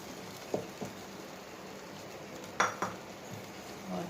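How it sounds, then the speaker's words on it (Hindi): A spoon stirs flour and water into a nihari curry in a metal pot, giving a few clinks and scrapes over a faint bubbling background, quiet and without talk. "ये थोड़ा थोड़ा करके मिलाते जाएं और साथ में जो है चम्मच मिलाते जाएं"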